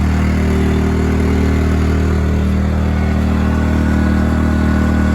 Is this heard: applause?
no